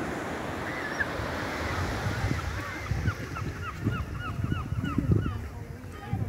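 Waves wash onto Looe beach from the English Channel with a continuous surf hiss and rumble, while geese honk repeatedly in the background.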